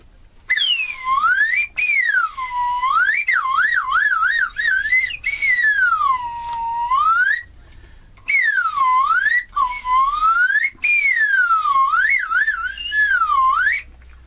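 Loud, continuous slide whistle sliding up and down in wavy, looping swoops, with one short pause midway and nothing else audible.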